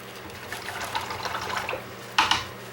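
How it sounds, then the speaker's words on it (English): Acrylic paint brush swished and rinsed in a water cup, a soft continuous sloshing with a sharper splash near the end, close and fairly quiet with no talking. "Rinse my brush,"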